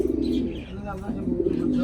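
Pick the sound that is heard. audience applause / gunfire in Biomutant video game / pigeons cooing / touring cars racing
pigeons cooing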